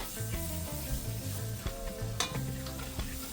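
Flour is stirred into a roux in a pan on high heat for baked macaroni and cheese, with a continuous sizzle and soft stirring under a steady tonal hum, and no voices.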